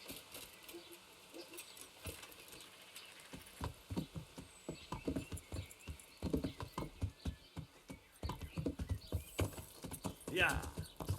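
Horse hooves clip-clop steadily on the ground in the medieval video game Kingdom Come: Deliverance, a dense run of close hoofbeats that grows busier partway through, with faint voices in the background.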